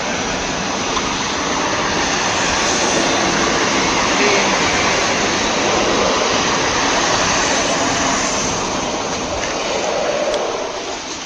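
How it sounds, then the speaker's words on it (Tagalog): A train rolls past near the Forteresse de Salses in France, a loud, steady broadband rush and rumble that holds for the whole stretch, close by and with no voices over it. "Release ng train. May train guys na."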